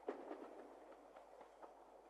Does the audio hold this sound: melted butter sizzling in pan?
no